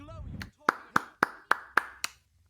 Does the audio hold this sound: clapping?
yes